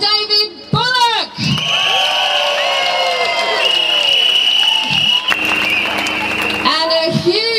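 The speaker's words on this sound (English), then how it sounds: "can we have a big round of applause for our wonderful town crier, Mr. David Bullock?" Crowd at the Norwich Pride parade cheers, whoops and applauds the town crier, a loud sustained roar with shouts, layered over festive music and nearby voices.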